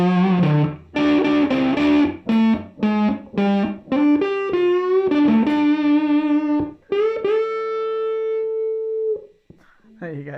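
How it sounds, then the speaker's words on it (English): Warm, rounded notes from an Epiphone SG electric guitar on the neck pickup with the tone rolled back, a soft, mellow tone, played as a short melodic phrase ending on a held note. "if I go on the neck pickup, wind the tone back, volume all the way up"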